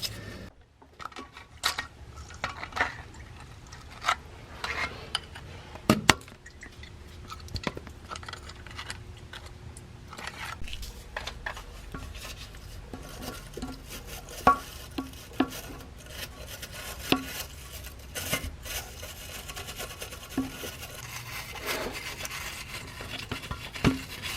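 Rust being cleaned out of the rusted 3/8-inch square drive plug openings on a Ford F150 transfer case gives quiet, close scraping and rubbing with scattered small metallic ticks and clicks, irregular and without talk.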